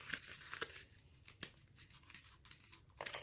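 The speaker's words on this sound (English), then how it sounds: "So you take your pieces, fold them all together." Paper craft pieces are folded together by hand, giving close, soft crinkling and rustling with a few sharp crackles scattered through a short stretch of quiet handling.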